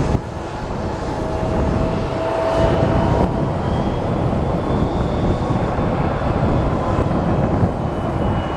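A United airliner with merger-livery winglets taxis at Columbus Glenn airport, its steady engine rumble and whine holding loud and constant throughout with wind noise on the microphone.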